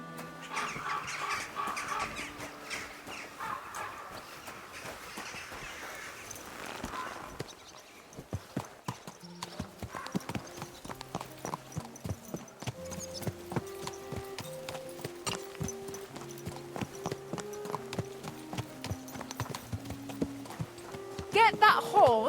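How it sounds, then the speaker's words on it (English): A horse in the video game Kingdom Come Deliverance II clip-clops in a steady rhythm under voices, set against chiming tonal background music. "Get that horse under control."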